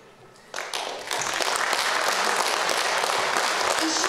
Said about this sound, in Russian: Давайте еще раз поблагодарим их бурными аплодисментами